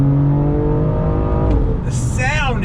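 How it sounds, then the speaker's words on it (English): A turbocharged straight-six engine in a 2020 BMW M4 drones loudly under throttle with a deep sport-exhaust growl, pitch climbing near the end as it revs. "a straight six turbocharged engine with that sport exhaust"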